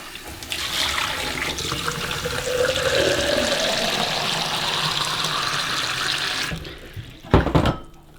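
Cold tap water pours steadily into a coffee machine's water tank, a close continuous rushing fill with a rising tone that stops abruptly, followed by a short clunk and splash.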